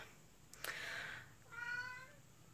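A house cat meows twice in a room, a rising tonal call followed by a second steadier one, close and fairly clear over a quiet background.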